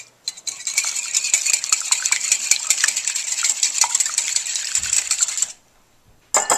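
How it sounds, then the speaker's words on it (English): Eggs are whisked briskly in a bowl, giving a fast, steady stream of metallic clicking and scraping for several seconds. It stops abruptly, then briefly starts again, with no talking. "I'm just going to whisk the eggs until they're fully mixed."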